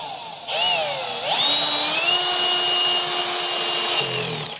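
A power screwdriver drives screws while a range hood and its casing are installed, its motor whining up to a steady high pitch for several seconds and dropping off near the end, loud and close with no talking.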